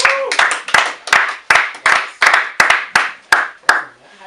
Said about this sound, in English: Everybody clap it up, man.